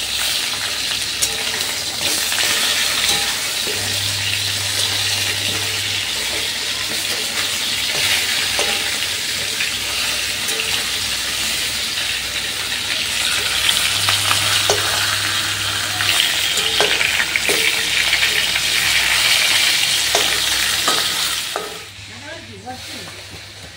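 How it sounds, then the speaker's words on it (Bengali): Fish heads sizzle steadily in hot mustard oil, a loud continuous frying hiss with occasional crackles and a low rumble beneath, running unbroken until it drops away near the end. "এবার মাছের মাথাগুলো দিয়ে খুব বেশি কড়া করে ভাজবো না, হালকা করে ভেজে তুলে রাখবো"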